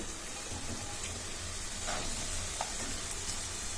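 Soya chunks frying for fried rice, a continuous hiss and sizzle in the pan with a faint stirring scrape, steady and close.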